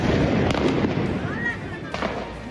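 Firecrackers thrown by football fans burst inside Tsirio stadium, a few sharp bangs over a loud, roaring crowd, with voices throughout.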